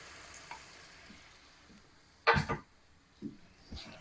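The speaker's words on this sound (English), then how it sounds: "So now it is time to add the wine, and we got to bring it up to high heat" White wine added to a hot pan of mussels gives a soft, low sizzle under a clear clatter at mid-clip and a few quieter knocks of the pan, fairly faint overall.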